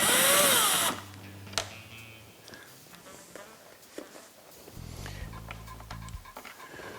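Power drill backing screws out of the fairing on a 2011 Harley-Davidson Road Glide Ultra: a loud whirring burst at the start, a second shorter drill run later, and light handling clatter and footsteps in between.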